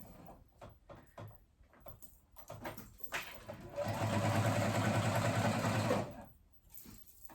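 A home sewing machine stitches fabric for a simple dress, running in one steady close burst of about two seconds, with soft handling clicks and rustles of cloth before and after.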